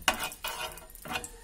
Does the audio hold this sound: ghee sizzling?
yes